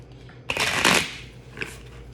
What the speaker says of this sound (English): that's what I refer to as clearly a light shuffle